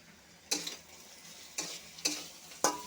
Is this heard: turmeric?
yes